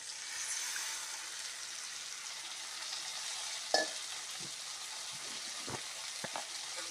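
Tamarind juice poured into a pan of bitter gourd gives a soft, steady sizzle with a brief sharp splash near the middle, then a few light stirring knocks.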